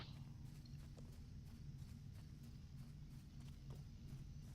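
Faint, steady clip-clop of horse hooves walking, a soft rhythmic clatter over a low background hum, in the video game The Lord of the Rings Online.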